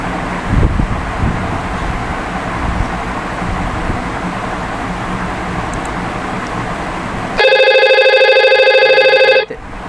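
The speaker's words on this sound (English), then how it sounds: "the phone on floor 2 also ringing" A telephone in a simulated switching system, a phone on floor 2, rings for about two seconds with a steady electronic trill, loud and close, after a stretch of windy background rumble.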